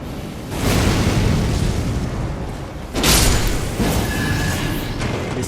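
Cannon blasts fired by a cannon boy enemy in the video game Elden Ring, two deep booming explosions about two seconds apart, loud and rumbling with broad low-end weight, no voices.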